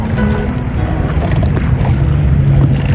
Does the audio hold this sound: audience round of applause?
no